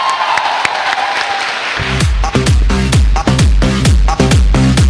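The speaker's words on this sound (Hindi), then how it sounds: "सेफ शॉप को जोरदार तालियां।" Applause at a Safe Shop company speech, beginning as a crowd roar and shifting into loud, rhythmic unison clapping with a regular beat.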